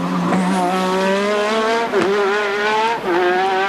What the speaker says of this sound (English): Watch the rear wing of Stefan Johansson's Ferrari as he comes down the really quick parts of the circuit